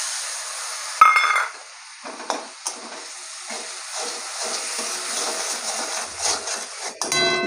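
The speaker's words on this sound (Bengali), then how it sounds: "মশলাটা কষানো হয়ে গেছে" Mustard and ginger spice paste with turmeric and salt is stir-fried in a pan for a Bengali fish curry, a soft sizzle with clinks and scraping stirs, a sharp clatter near the start.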